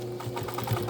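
A domestic sewing machine stitches over bulky denim jean seams, a close, steady whirring motor hum with a rapid rhythmic needle chatter, alone for under a second.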